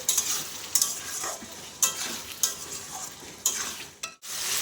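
Prawns with chopped green chillies sauté in a pan, a bright hissing sizzle broken by repeated scraping stir strokes at roughly regular intervals, close and clear, with no talking.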